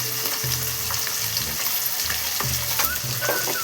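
Spices and chilli powder frying in a pan over a low flame while being stirred, a steady soft sizzle with scraping strokes of the spoon coming in short repeated bursts, close and without talk.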